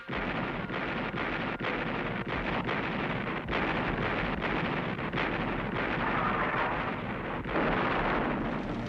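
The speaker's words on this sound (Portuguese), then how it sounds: "925 canhões abrem fogo sobre esse alvo." Massed artillery fire from 925 guns in WWII archive footage near Monte Cassino, heard as a continuous dense roar of distant bombardment with repeated dull thumps, steady and loud throughout without speech.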